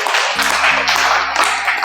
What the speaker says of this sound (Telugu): చప్పట్లతో శుభాకాంక్షలు తెలియజేసుకుంటున్నాము